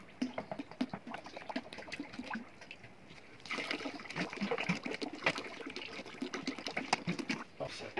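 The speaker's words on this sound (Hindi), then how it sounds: "अभी जो है वो तारा मीरा का बारह लीटर ऑयल डाल रहे हैं" Twelve litres of taramira oil being poured into a mixture, a steady glugging trickle with irregular splashes that grows fuller and busier midway.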